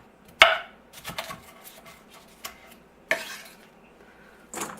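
A knife chops vegetables into bite-sized pieces for a meat chili with no beans, giving a few sharp, close cuts spaced irregularly, with softer taps between and no talking.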